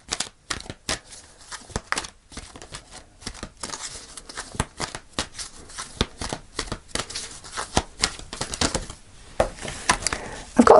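Tarot cards being shuffled by hand make close, rapid riffles and flutters with sharp slaps, sounding loud and continuous with uneven bursts.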